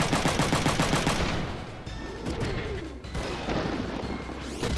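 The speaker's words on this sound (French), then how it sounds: "On va contre-attaquer avec le fusil à pompe." Shotgun blasts from a counter-attack in the PlayStation strategy game Front Mission 3 boom in a rapid burst, then louder single reports follow amid mechanical clanks and whirs, with no talking.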